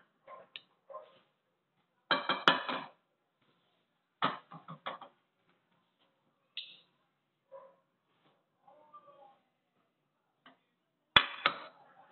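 Roasted lemon-garlic chicken is lifted onto a plate with scattered clinks and taps of utensil on dish, several short clusters of clatter separated by quiet pauses.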